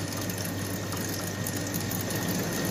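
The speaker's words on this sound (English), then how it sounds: "I'm going to turn on the water. There we see it's starting to fill up." Water running steadily into the tank of an appliance unit as it fills, a continuous close hiss and rush with a low mechanical hum beneath, no talk.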